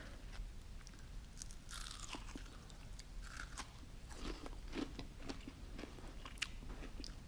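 Crunchy breaded onions fresh from the fryer being bitten and chewed up close, with repeated crisp crackling crunches over a quiet, low background and no talking.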